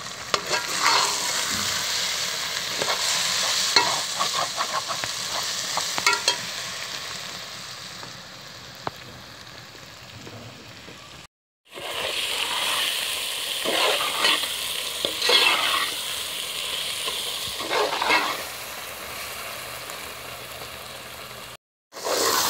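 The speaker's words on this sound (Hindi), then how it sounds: "आलू मेथी जो है हमारी तकरीबन रेडी हो चुकी है, तो अब हम इसको तकरीबन 1 से 2 मिनट तक मज़ीद भूनेंगे" Potatoes and fenugreek leaves fry and sizzle steadily in a pan while being stirred and scraped, the loud, close sizzle broken by two short pauses.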